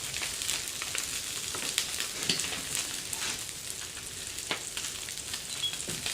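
Mackerel burgers sizzle in a hot pan with a steady, fairly quiet crackle, dotted with small sharp pops and spits throughout.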